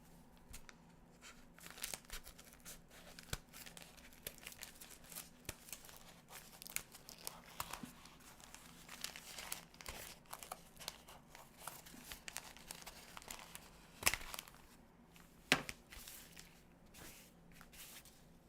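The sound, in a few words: cutting with big scissors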